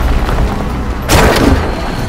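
A wooden ballista siege engine fires during a desert siege battle in a video game, a sudden loud broadband crack and whoosh about halfway through, rising over a steady rumble of battle noise.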